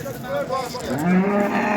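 A cow at a busy cattle market gives a long, rising moo close by, with crowd noise faintly behind.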